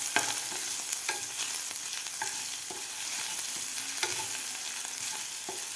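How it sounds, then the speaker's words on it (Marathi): Ginger, cumin and green chillies sauté in a pan for a broccoli paratha, a steady sizzle running throughout with a spatula scraping and stirring at intervals, close and fairly loud, no voices. "व्यवस्थित आपल्याला परतून घ्यायचं आहे आलं, जिरे आणि मिरची."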